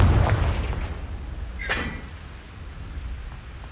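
The Confringo fire spell explodes in Hogwarts Legacy: a heavy, deep boom opens, followed by a sharp, crackling burst a moment later that fades into a low rumble.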